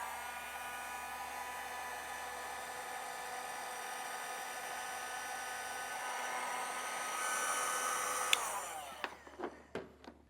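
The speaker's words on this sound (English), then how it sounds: "Now we'll shrink that down with a heat gun." A heat gun blows a steady, loud whooshing drone while shrinking heat-shrink tubing over diode wiring for a Roadmaster 4-diode towing wiring kit on a 2022 GMC, ending with a few sharp clicks and knocks as it shuts off.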